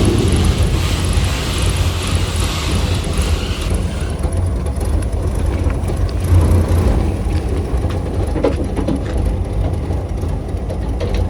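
A 1967 Volkswagen Beetle engine runs steadily on its first drive after floor pan repairs, a loud, close, continuous drone heard from inside the car with no talking.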